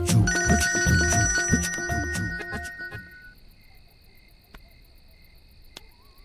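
Outgoing phone call ringing in a domestic comedy scene, a repeating electronic ringtone pattern for about three seconds, then quieter with faint clicks and tones.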